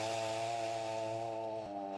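A Champion 241 chainsaw runs at a steady high-revving whine while it saws through wood. The drone is loud and close and goes on without a break, with a brief dip in pitch near the end.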